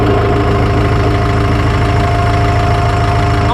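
A 1280 tractor engine idles with a steady, loud diesel rumble and knocking pulse while the driver shifts gears; the throb stays constant and close throughout, with no talk.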